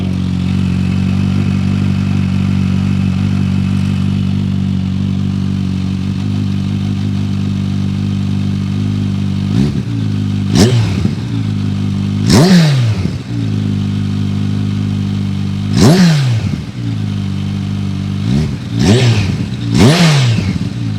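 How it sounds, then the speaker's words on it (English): A 2021 supercharged Kawasaki Z H2 motorcycle, fitted with a non-standard exhaust, idles loudly and then is blipped in several sharp throttle revs. The revs rise and fall quickly, the idle settling between each burst, heard close and with no one talking. "wow, that sounds absolutely amazing"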